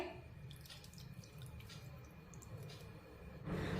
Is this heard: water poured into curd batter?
yes